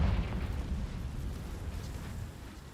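Confringo fire spell explosion in the video game Hogwarts Legacy, a deep rumbling blast that opens loudest and then decays into a dull, rolling roar over a few seconds.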